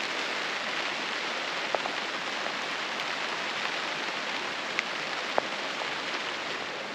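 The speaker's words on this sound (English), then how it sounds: "Rain's still falling" Rain falls steadily on a Zempire Pronto air tent at a rainy campsite, making a constant close patter with a few sharper individual drops standing out and no voices.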